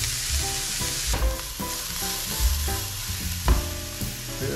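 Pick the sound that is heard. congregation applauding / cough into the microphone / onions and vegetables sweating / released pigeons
onions and vegetables sweating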